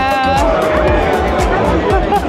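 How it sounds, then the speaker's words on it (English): Crowd chatter fills a Hot Wheels event, with a dense babble of many overlapping voices close by, steady and loud, one nearer voice standing out from the hubbub. "Look at that crowd."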